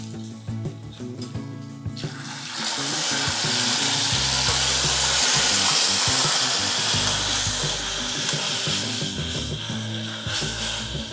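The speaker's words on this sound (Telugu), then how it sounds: "కొంచెం వాటర్లో సాల్ట్ చక్కెర తీసుకొని ఈ పోపులో యాడ్ చేసుకోవాలి." Salt-and-sugar water is poured into a hot tempering for khaman dhokla. After a few seconds of crackling, it bursts into a loud, rushing hiss that slowly fades while faint clinks sound underneath.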